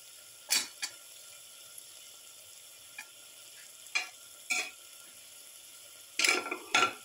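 Shallot pieces hit a hot pan while cooking shrimp and carrot, giving short separate bursts of sizzle and stirring scrapes with quiet pauses in between, several clustered near the end.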